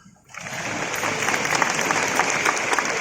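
Applause from a crowd at an Islamic religious lecture in Pomalaa starts after a brief quiet moment and swells into steady, many-handed clapping that holds to the end.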